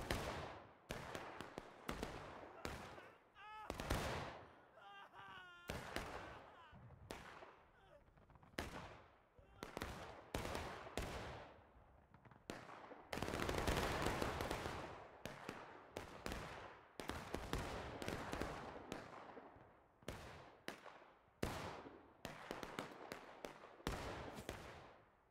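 Massed musket fire in War of Rights, an American Civil War battle game: a long run of sharp, loud cracks and ragged volleys, some close and some further off, with shouted voices between shots.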